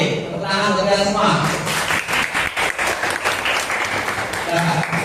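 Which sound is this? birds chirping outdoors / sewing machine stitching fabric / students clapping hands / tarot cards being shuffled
students clapping hands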